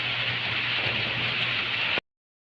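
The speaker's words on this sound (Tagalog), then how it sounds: "Maulan talaga." Heavy rain falls outdoors near mountains during a pigeon race, making a steady, dense hiss of drops with a low rumble beneath it. The sound stops abruptly after about two seconds.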